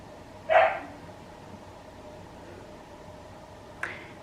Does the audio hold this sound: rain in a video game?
no